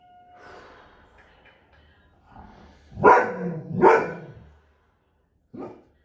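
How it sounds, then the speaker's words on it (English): A dog barks a few times in the distance, muffled as if outdoors, with faint breathing and quiet between the barks during an indoor kettlebell workout. "That's just a dog."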